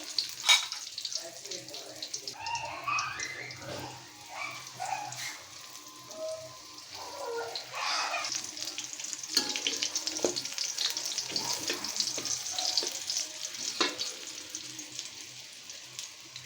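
Snacks sizzle and crackle steadily in a frying pan during home cooking of an afternoon snack, a continuous close frying hiss with occasional faint voice-like sounds.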